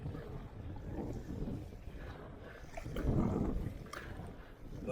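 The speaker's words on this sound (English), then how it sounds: "But man, is it ever choppy." An Old Town Sportsman 120 kayak moves over choppy, windy water, with gusty wind buffeting the microphone and low sloshing and slapping of waves against the hull.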